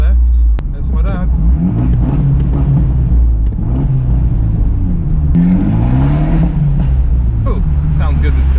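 A car's engine runs at a car show, a deep, continuous low rumble that stays steady and close throughout, with voices talking over it.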